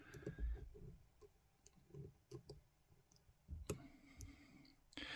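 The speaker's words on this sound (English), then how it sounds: "So I get a couple of little clicks in there." Small sharp clicks come from the pins of an old brass Union padlock as it is picked, faint and scattered over a quiet background with a few louder taps.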